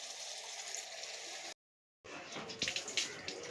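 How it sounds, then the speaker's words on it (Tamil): Water pours into a pan of Pallipalayam chicken curry with a steady hiss, a brief silent gap, then sizzling and bubbling spatters as the liquid meets the hot pan. "நம்ம வந்து கொஞ்சம் தண்ணி சேர்த்துக்கலாம்."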